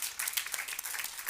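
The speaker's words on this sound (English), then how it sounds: "There's not enough applause for these employees" School employees receive applause at a Board of Education meeting, a brief burst of crisp, closely spaced clapping from the audience.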